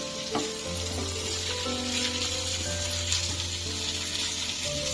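Spices frying in a pan for harive soppu bassaru, a village-style amaranth-leaf curry, give a steady, dense sizzle with a low hum beneath and a few faint stirring clinks, continuous and close throughout.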